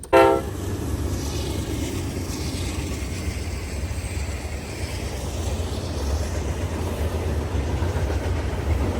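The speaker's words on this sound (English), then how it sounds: "got another beautiful redfish as that freight train went by" A freight train rumbles past steadily and continuously, a low heavy roar with rattling cars, opening with a brief horn-like tone.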